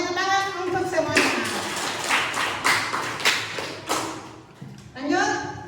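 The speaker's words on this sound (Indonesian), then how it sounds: "tepuk tangan untuk semuanya" A classroom group claps in a short burst of applause, several uneven rounds of hand claps mixed with a teacher's voice speaking over and between them.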